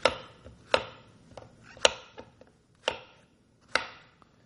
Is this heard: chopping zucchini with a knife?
yes